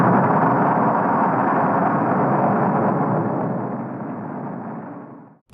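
A Soviet RDS-37 thermonuclear bomb test, the first two-stage device, releasing 1.6 megatons, makes a loud, sustained broadband roar that holds steady, then fades away near the end, with no voices.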